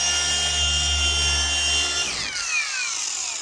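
A power tool whines loudly under load, its tone steady at first, then sagging sharply as it bogs down about two seconds in, the pitch sliding lower while the motor keeps running.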